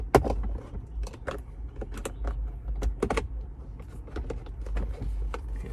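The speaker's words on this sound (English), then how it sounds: "as we work a tool around to pry off the underside of the lid here" A pry tool works around the plastic lid of a 2019+ Chevrolet Silverado center console, giving sharp clicks and plastic snaps at irregular intervals. Faint rustling and a low hum sit underneath, and nobody speaks.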